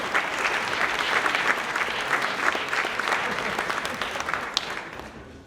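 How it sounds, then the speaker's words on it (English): Audience applause fills an awards ceremony, a steady wash of many hands clapping at moderate volume for several seconds, with faint voices mixed in. "A big round of applause."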